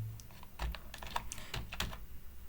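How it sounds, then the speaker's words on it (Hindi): Fingers tap quickly on a computer keyboard while HTML code is entered, a steady run of close, light clicks with brief pauses between bursts. "अब मुझे अगर टाइप करना है"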